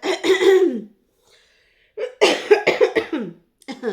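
A person coughs loudly and close up in two rough bursts, a harsh fit of several hacking coughs, then a pause, then another longer run of coughs.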